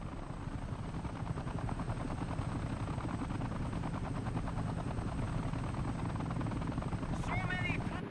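A V-25 Goshawk helicopter from the video game Tom Clancy's EndWar thumps with steady rotor chop over rumbling battlefield noise, with a brief radio-like voice burst near the end.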